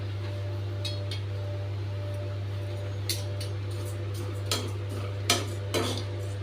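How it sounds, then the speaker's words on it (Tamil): Flattened rice (aval) dry-roasting in a pan, stirred with a few scattered metallic scrapes and clinks of the spoon over a steady low stove hum; no one speaks. "இதை வந்து நம்ம வறுத்துக்க போகிறோம்"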